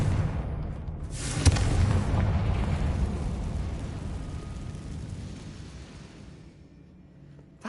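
A Confringo spell explosion in Hogwarts Legacy bursts with a sharp crack and rolling boom, then a rumbling roar that slowly fades away.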